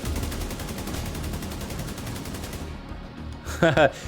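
An ACR-E rifle in The Division 2 fires a steady, evenly spaced automatic stream for about two and a half seconds, then stops; a couple of sharp impacts follow near the end.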